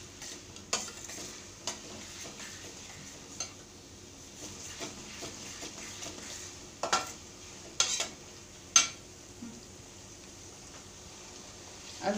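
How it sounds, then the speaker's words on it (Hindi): Onions with ginger, garlic and cumin paste fry gently on a tava for pav bhaji, a soft low sizzle broken by occasional spoon scrapes and clinks against the pan. "अभी हम इसमें अदरक लहसुन और जीरा इसकी पेस्ट बनाइए वो डाल देते हैं, और इसको थोड़ा होने देते हैं।"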